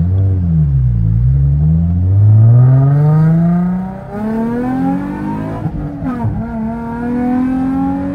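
Nissan 350Z V6 engine revving hard and loud nearby, the pitch climbing through long sweeping pulls, dipping as the revs drop and climbing again, a raw, dark growl throughout.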